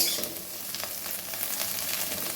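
Banana stem (thor) frying in a pan, giving a soft, continuous crackling sizzle with small popping bursts, close and fairly quiet, with no voices.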